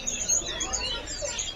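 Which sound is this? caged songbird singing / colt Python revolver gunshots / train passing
caged songbird singing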